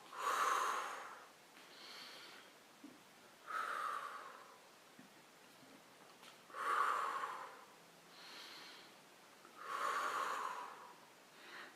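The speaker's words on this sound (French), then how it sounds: "Ici, je souffle. J'inspire. Je souffle. J'inspire." Slow, deliberate breathing during an abdominal core exercise, loud forceful exhales alternating with softer inhales in a steady rhythm, close and clear with no talking.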